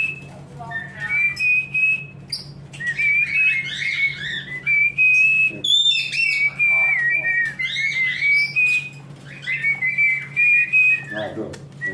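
A cockatiel at a breeding farm whistling a series of clear tuneful phrases, loud and close, imitating a whistled tune, with faint voices and hum in the background.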